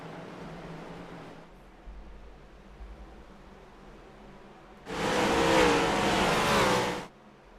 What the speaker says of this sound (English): We're about to go back green flag racing here.